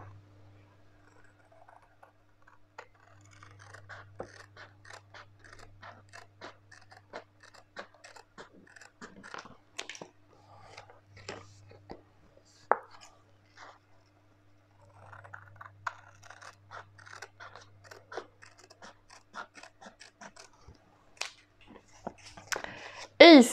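Scissors snipping through paper to make transparent budget envelopes and trackers, a long series of quiet, close, irregular cuts and rustles, with a louder crinkle at the very end.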